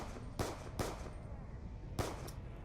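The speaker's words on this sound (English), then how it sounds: "I'm gonna go shoot this guy's zombie butt" Gunfire from a Black Ops 2 Zombies video game session, three sharp shots spaced apart over a steady game background hum, moderately loud and fairly close.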